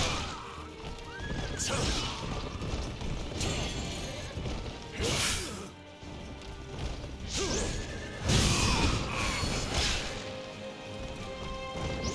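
A horse in the Wo Long video game neighs loudly several times amid clashing combat hits, whooshes and hoof clatter, with game effects surging throughout.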